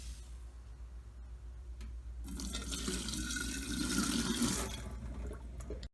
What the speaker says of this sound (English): you empty the carafe